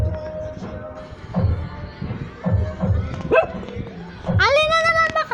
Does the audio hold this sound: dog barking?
yes